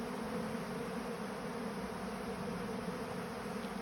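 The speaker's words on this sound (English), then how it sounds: "So they will be different bees from different hives that are cleaning the filters there at the moment" Bees from several hives buzzing as they clean leftover wax off filters, a steady close droning hum that holds evenly throughout.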